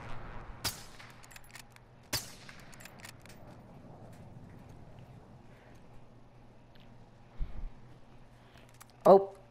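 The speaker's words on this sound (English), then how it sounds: "he's just shooting him through the wall" Gunfire in Call of Duty: Warzone, shots fired through a wall, a few sharp isolated cracks spaced seconds apart against a quiet game background, with a voice talking over them.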